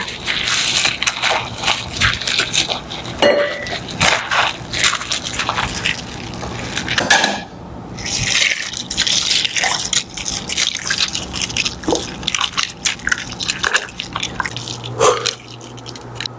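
Korean hwachae fruit punch with ice is stirred close up, a busy stream of clinking, sloshing and dripping liquid sounds with irregular splashes throughout.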